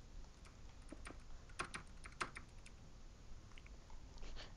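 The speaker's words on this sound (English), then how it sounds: "Hear Nightmare furiously tapping on his keyboard in the distance." Rapid, busy typing on a computer keyboard heard faintly in the distance, a flurry of small clicks with a couple of sharper keystrokes standing out over a low background hiss.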